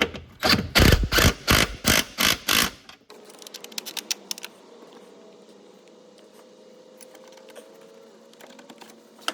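A nut is run down onto the starter stud of a shop truck, heard as a quick series of about eight loud, evenly spaced bursts close by, then quieter scattered clicks over a low background hum.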